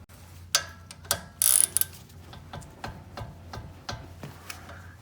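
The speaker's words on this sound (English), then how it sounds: "They are 17 millimeter, so I'm gonna go ahead and undo those to get the caliper free." Ratchet undoing 17 mm brake caliper bolts during a steering knuckle removal, a quick run of clicking pawl bursts near the start followed by scattered individual clicks and taps, close and fairly quiet.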